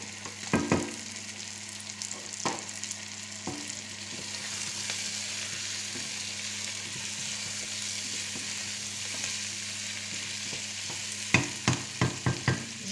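Carrots fry in a pan with a continuous soft sizzle. Scattered spatula knocks break through it, and near the end a quick run of four or five clacks against the pan rings out close and loud.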